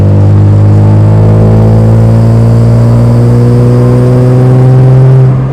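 A loud BMW E36 engine with a throaty Supersprint race exhaust drones steadily, pitch climbing gradually as it accelerates, close and continuous.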